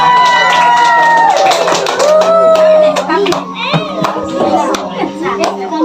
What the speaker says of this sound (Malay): Bagi tepukan kepada